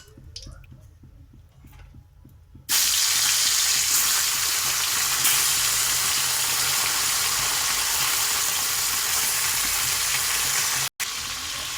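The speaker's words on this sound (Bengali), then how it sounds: "এখানে মাছগুলো ভাজা হচ্ছে," Lightly salted fish drops into hot oil in a pan after a quiet start with faint clicks. A loud, dense sizzle then bursts in abruptly and holds steady and close.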